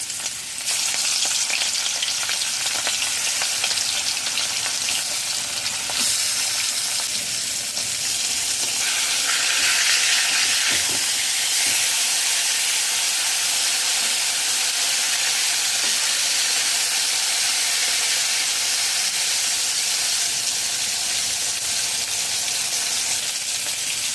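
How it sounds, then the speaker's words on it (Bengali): Rohu fish pieces fry in three tablespoons of hot mustard oil in a kadai, giving a loud, steady, continuous sizzle and crackle with a broad hiss that holds throughout, with no talking. "কড়াইতে সর্ষের তেল দিয়েছি তিন টেবিল চামচ তেল গরম হয়ে গেছে মাছ দিয়ে দেবো"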